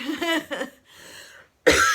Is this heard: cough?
yes